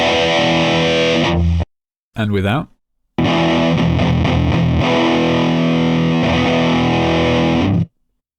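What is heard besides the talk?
high-gain guitar amp simulator distortion, with and without EQ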